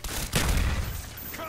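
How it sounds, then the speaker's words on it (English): A single grenade goes off in a first-person shooter match, a short, punchy blast with a brief rumbling tail, moderately loud and heard alone. "Throwing grenade!"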